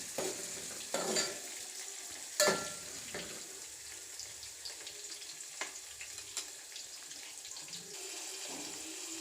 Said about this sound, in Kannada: ಈರುಳ್ಳಿ, ಮೆಣಸಿನ್ಕಾಯಿ ಕಟ್ ಮಾಡಿರ್ತಾರಲ್ಲ ಅದನ್ನು ಹಾಕಿ ಸ್ವಲ್ಪ ಚೆನ್ನಾಗಿ ಫ್ರೈ ಮಾಡಿ ಎಣ್ಣೆಲಿ